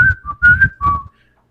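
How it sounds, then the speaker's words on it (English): Short whistled notes from the video game Part Time UFO, a few clear tones in a quick rising-and-falling tune, close and alone. "this is whistling, like the actual sound effect."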